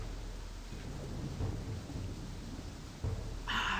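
Thunder rumbles under steady rain in the WolfQuest wolf video game, a continuous wash of rainfall with a low roll of thunder and a brighter burst near the end.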